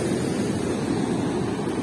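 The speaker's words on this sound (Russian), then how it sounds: "Море бушует" Stormy sea surf pounding close to shore during a rainstorm in Turkey, a steady loud roar of broadband wash with no distinct breaks, continuous throughout.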